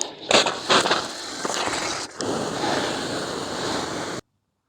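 Water pours onto a garden shrub from a hose or can, making a steady rushing hiss close to the microphone with a brief break partway through, then stopping abruptly.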